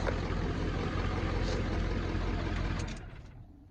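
A Ford 7.3 diesel in an OBS truck idles with a steady, deep low rumble up close, then quiets and fades over the last second.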